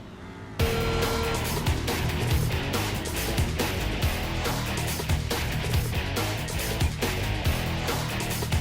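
Race cars roar off the starting line in the game Jak X: Combat Racing, engines bursting in loudly after a short quiet moment and holding a dense, steady revving din with repeated sharp clatters throughout.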